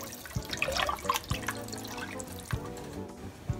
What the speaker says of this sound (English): Pour 10 cups of water.